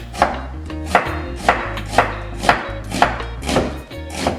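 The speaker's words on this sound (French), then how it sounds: "on va prendre notre oignon et on va l'émincer finement" A knife finely slicing an onion on a cutting board, with regular sharp chops about every half second over a faint steady background hum, close and clear, with no voices.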